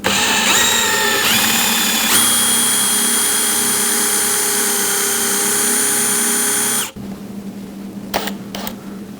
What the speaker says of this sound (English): we're going to use our plug cutter to do that.